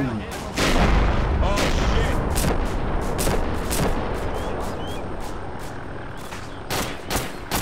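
Close gunfire in the Arma 2 military shooter, with rapid bursts of sharp, loud shots cracking repeatedly through the whole stretch, some overlapping in dense volleys.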